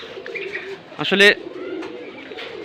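Pigeons coo on a rooftop in the late afternoon, a low rolling coo with one louder burst of wing flapping or calls midway, close by, while someone speaks over them.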